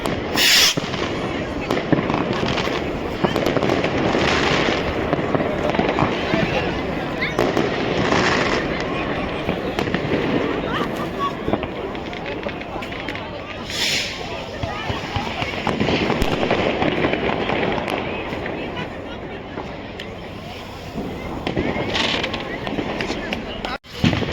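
Fireworks burst again and again over Heidelberg, Germany on New Year's Eve, a dense wash of crackling and booming explosions that keeps going throughout, with voices in the crowd faintly underneath.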